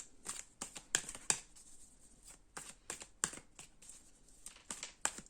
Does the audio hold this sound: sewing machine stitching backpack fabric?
no